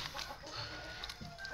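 Shamo, Indio Gigante and Plucker chickens cluck at feeding time, a close, busy mix of overlapping clucks and short calls from several birds.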